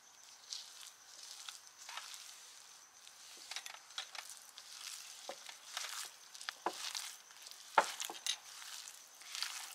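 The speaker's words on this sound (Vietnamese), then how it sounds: "Bây giờ Thu sẽ trộn đều cái hỗn hợp này lên nha." Gloved hands mix a fish paste with seasoning and starch in a bowl, giving soft, irregular squelching and slapping strokes with sharp wet clicks, close and moderately quiet with no talk.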